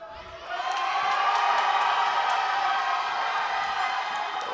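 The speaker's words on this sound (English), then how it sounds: "Whole Slovenian team is there screaming for him." A Slovenian team screams and cheers for an 83 kg lifter at the European Open Classic Powerlifting Championships: a loud, sustained crowd roar with whoops that swells early and holds steady throughout.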